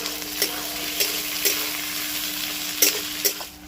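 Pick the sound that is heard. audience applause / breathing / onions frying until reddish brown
onions frying until reddish brown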